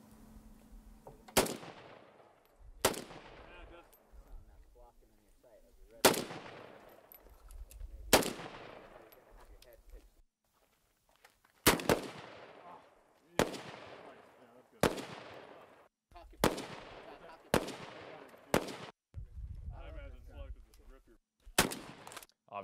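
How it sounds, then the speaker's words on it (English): Sharp gunshots from more than one gun crack out one after another at irregular intervals, each loud report trailing into a brief echo, with faint chatter between some shots. "Obviously, it's just a bunch of gunshots."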